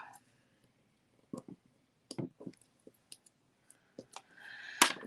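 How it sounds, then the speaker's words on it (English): A rubber stamp being peeled up off its sheet, heard as a few soft, close sticky clicks and tearing crackles spread through a quiet room, ending in a brief rougher rustle. "I'm peeling this up"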